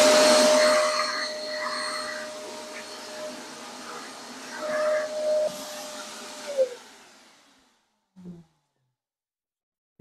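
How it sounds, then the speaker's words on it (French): A Parkside 1200 W wet and dry vacuum cleaner running loud and close while cleaning a garage, a steady whine with shifting suction tones, then switched off and winding down to silence with a brief clunk afterward. "avec vos tuyaux, vous pouvez aspirer grande surface"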